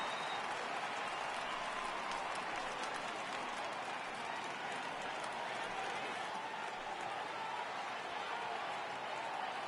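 A stadium crowd in the baseball video game MLB The Show 18 rises for a 3-2 count, a steady, broad wash of cheering and applause heard at a distance, quiet overall, with faint commentator talk.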